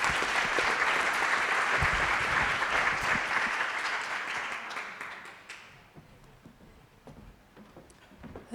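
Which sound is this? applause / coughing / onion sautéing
applause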